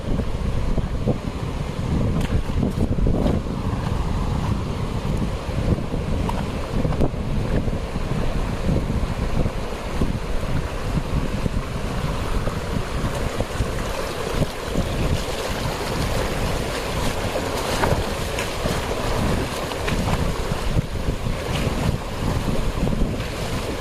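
Loud, steady rush of a fast-moving swollen river with heavy wind buffeting the microphone, a constant turbulent roar throughout with no voices, near Jim Corbett National Park.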